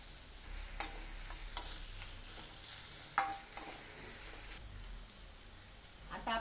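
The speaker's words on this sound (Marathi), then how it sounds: "आता मी इथे आलं लसूण बारीक करून घेतले, ती घालायचे" Finely chopped ginger and garlic added to a hot pan with peanuts for Khandeshi masala khichdi, sizzling steadily with a soft hiss, punctuated by a few sharp spoon clinks and stirring scrapes, no talking.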